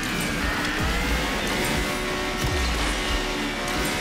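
A McLaren Senna GTR races in Asphalt Legends Unite with a loud, steady engine drone and occasional dipping whooshes and tire scrubs as it corners at speed.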